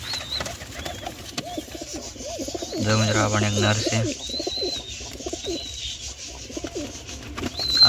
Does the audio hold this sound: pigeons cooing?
yes